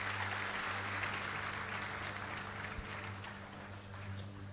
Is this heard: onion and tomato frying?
no